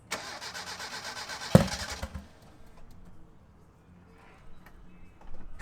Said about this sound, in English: if I start the car, it'll just puff it up and maybe launch it out.